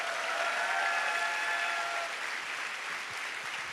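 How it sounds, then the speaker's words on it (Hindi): A crowd claps steadily in a dense, sustained wash of applause that fades slightly toward the end, with no voices standing out. "जबरदस्ती ताली हो जाए पहले"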